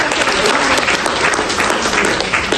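Dense, steady audience applause at a Georgian poetry evening, many hands clapping loudly and continuously throughout with no pause.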